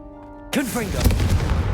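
After a brief quiet stretch of game music, a Confringo fire spell in Hogwarts Legacy erupts in a sudden loud, crackling blast, followed by a sustained fiery roar with low booming undertones.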